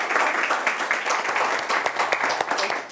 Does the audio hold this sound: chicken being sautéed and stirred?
no